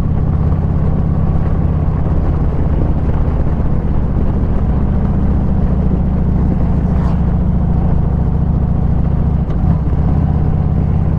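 A Harley-Davidson motorcycle engine lugs along in a high gear, 5th or 6th, on a Scotland tour, giving a steady loud low rumble throughout with constant wind roar and no talk.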